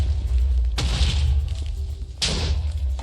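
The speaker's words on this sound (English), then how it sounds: "Explosion seems to be doing pretty good." Blocks of TNT detonate in a Minecraft world, giving two loud, separate blasts about a second and a half apart, each a sudden burst that fades over a steady low rumble.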